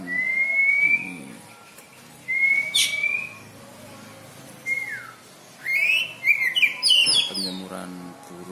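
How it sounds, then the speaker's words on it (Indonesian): A jalak koci starling sings while being sunned, with clear rising whistles and chirps in separate bursts and a rapid chattering flurry near the end, fairly close. "jalak koci"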